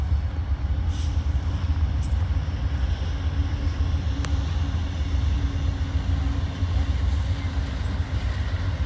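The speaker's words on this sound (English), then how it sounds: "we've got a train coming. And it's Amtrak." An Amtrak Lake Shore Limited passenger train with two locomotives approaches at West Springfield yard, a steady loud rumble and rolling rail noise, with a brief horn-like tone, and no talking.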